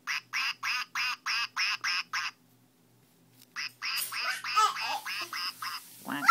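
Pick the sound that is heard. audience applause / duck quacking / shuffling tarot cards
duck quacking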